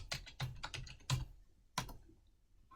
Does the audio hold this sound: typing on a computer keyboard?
yes